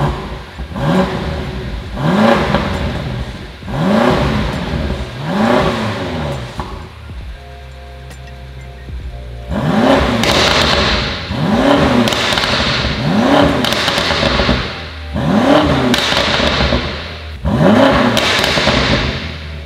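A BMW M5 Competition tuned to 800 hp, still on its original exhaust, is revved hard over and over. Loud, close blips rise and fall in a steady rhythm, with a brief pause before the revving resumes.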